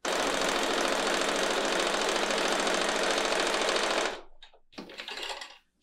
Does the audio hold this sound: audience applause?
no